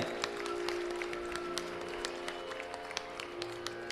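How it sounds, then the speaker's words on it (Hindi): An audience at a Delhi government school building inauguration applauds after the lamp-lighting ceremony. Steady crowd clapping runs throughout, with a sustained tonal hum and some sharper individual claps standing out. "जोरदार तालियों से आइए सहभागी बने।"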